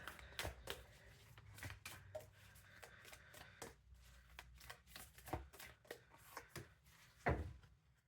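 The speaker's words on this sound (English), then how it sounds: "Let's pull a couple more oracle cards" Oracle cards being shuffled and drawn from a deck, with a steady run of quick, close papery riffles and slaps, ending in a sharper knock as a card is set down; no talking.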